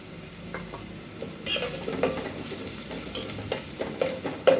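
Ginger-garlic paste sizzles and fries in hot oil on a low flame while being stirred, a soft steady crackle with occasional louder spatters and light clinks from the pan.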